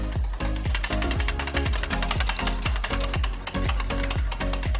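An electric hand mixer whips instant coffee, sugar and water into dalgona foam, a loud, close motor buzz with a fast rhythmic pulsing from the beaters and no talk.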